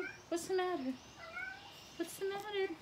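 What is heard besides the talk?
cat meowing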